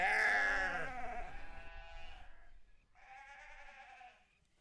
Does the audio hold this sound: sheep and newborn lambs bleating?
yes